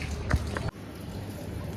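Monsoon rain returns under dark clouds, a steady soft patter on surfaces with a few heavier drops and a brief rustling knock early on, fairly quiet and without speech.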